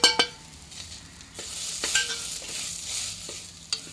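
Spice powders (chilli, masala, turmeric, coriander, pepper) with green chillies frying in a pan for a squid curry roast, stirred with a few close scraping strokes over a steady soft sizzle, with no talk.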